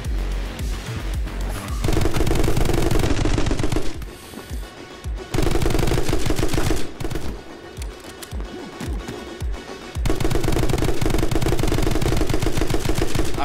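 Bursts of rapid automatic gunfire from the action game My Friend Pedro, loud and close, with dense rattling volleys that start and stop in several long stretches over a thumping music track.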